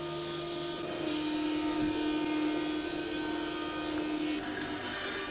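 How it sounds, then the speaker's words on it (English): A maple board feeds through a helical-head thicknesser, whose loud steady motor drone rises as the wood is cut for about three seconds and then drops back to the idle hum, with no voice. "I never get sick of using the thicknesser."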